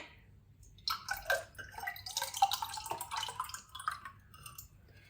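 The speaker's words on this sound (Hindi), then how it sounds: "यहाँ पे ड्रिंक तैयार हो गया। अब डालते हैं।" Freshly made aloe vera drink is poured, splashing and trickling steadily into a container. The sound is close and fairly quiet and starts after a second of near silence, with no talk.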